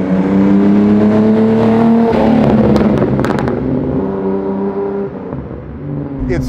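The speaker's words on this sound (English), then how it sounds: "If you rev it hard and let it go, it'll pop." A 1972 Datsun Fairlady 240Z engine revs loud and close, holding a high droning pitch before easing off as it falls away, with crackling pops during the drop.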